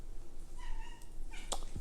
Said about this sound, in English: you can hear the cat, right?